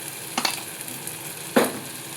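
Spices such as turmeric, kitchen king masala and coriander powder sizzling in a pan as they are stirred, with two short bursts of scraping and frying standing out over a low, steady hiss, close and alone.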